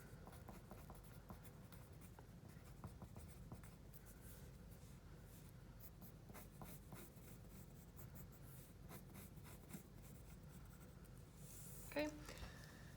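Pen scratching steadily on paper while writing atmospheric science notes, a close, continuous quiet scribbling with small taps, and a voice speaking over it.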